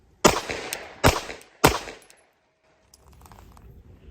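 A Gen 4 Glock 19 pistol fitted with a Radian Ramjet fires three loud, sharp shots about half a second apart, each ringing briefly, then quieter handling noise follows.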